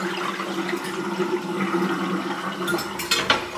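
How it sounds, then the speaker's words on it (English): Water from a kitchen faucet pours steadily over a raw turkey as it is rinsed, a continuous close splashing rush with a few louder splatters near the end. "we'll just want to thoroughly rinse that"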